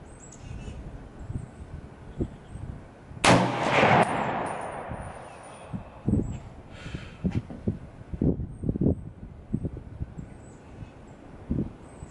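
A single loud shot from a suppressed SIG MCX Spear (XM7) .308/7.62 rifle being zeroed outdoors cracks out and rolls off in a trailing echo. Brief talking follows.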